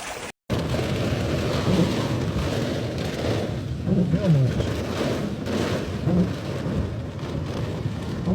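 A brief storm over a German street brings steady, loud rain noise with low rumbling that could be thunder, running continuously after a short silent gap at the start; some faint voices may sit under it.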